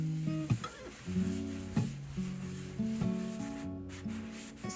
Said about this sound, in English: And now it is time to sand that spackle.